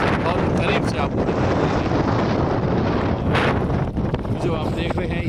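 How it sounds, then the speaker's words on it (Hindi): Strong, steady wind buffets the microphone during boating on Gadisar Lake in Jaisalmer, a constant loud roar with faint water and boat sounds and a voice speaking over it. "ज़बरदस्त तेज हवाओं के बीच जो हम ये नौकायान कर रहे हैं"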